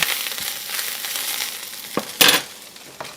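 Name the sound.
stirring purslane in a pan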